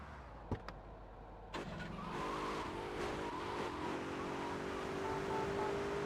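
In a Grand Theft Auto game, a couple of sharp clicks are followed by a stolen police car's engine starting and revving as it pulls away, with tires squealing and the motor droning on steadily, fairly faint.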